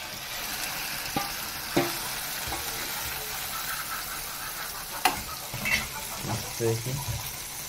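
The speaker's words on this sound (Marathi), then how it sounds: "तेल तापलेलं आहे. लसूण पहिला फ्राय करू थोडासा. तर चला आता भेजा टाकून घेऊ." Garlic and mutton brain frying in hot oil give a steady sizzle, with a few sharp clinks and stirring knocks near the end.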